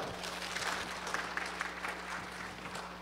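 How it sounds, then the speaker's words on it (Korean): A church congregation applauds to welcome the elders' special song at a prayer meeting, with moderate, even clapping from a crowd heard continuously throughout. "우리 박수로 환영합니다"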